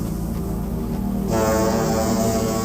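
A tugboat horn in a Thomas and TUGS parody scene sounds as a deep, sustained tone that swells louder partway through, holding steady to the end with no voices.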